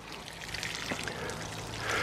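Water-soluble fertilizer solution is poured into a garden planting hole prepared for tomatoes or peppers, giving a steady, close liquid pour and splash over about two seconds with no talking.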